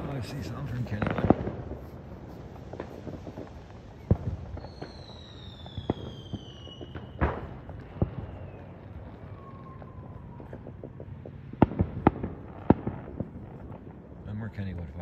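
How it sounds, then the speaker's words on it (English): Far-off neighborhood fireworks boom and crackle near Kennywood, giving irregular muffled thumps and sharp pops spread over fifteen seconds, with a few whistling rockets rising in between and faint voices in the background. "No more Kennywood fireworks. No more high ones up."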